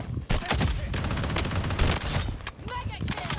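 Rapid bursts of gunfire crackle through a shooting video game, loud and nearly continuous, with someone talking over the shots.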